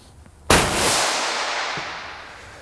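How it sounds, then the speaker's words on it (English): A Ranger R76RTF tire machine fires a single sudden, very loud blast of compressed air that tails off into a long, fading hiss. "you move this forward, and this will shoot out a massive blast of air"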